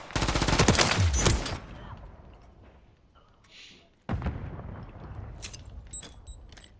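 Rapid automatic gunfire from Call of Duty: Modern Warfare 3, a loud close burst of shots at the start, then quieter game ambience and a few scattered distant shots and clicks.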